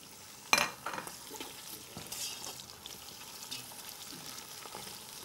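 Chicken fries with onions in a pan, a soft, steady sizzle with a clatter of stirring near the start and lighter scrapes after it, with no voices.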